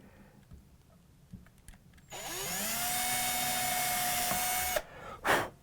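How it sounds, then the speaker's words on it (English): A screw is driven into a Fender guitar pickguard with a whirring tool that spins up and keeps a rising, steady whine for about three seconds. Quieter handling taps come before it and a short clatter follows. "the next screw I'm going to put in is this one"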